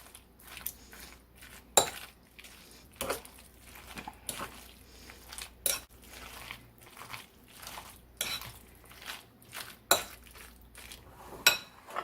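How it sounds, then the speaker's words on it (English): Tuna casserole ingredients and noodles are stirred together in a bowl with a utensil, making repeated clinks, scrapes and thuds in irregular bursts over a quiet background. The sounds are close and moderately loud, with no one talking. "And then you're going to mix all of that up together."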